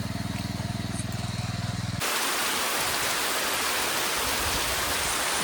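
Heavy rain over rice fields comes on abruptly as a dense, loud, steady hiss, replacing a rhythmic low engine-like drone heard during the first two seconds.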